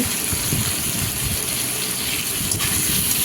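Water pouring steadily into a cooking pot in a home kitchen as rice cooks, a continuous close gushing splash that holds even throughout, with no talk.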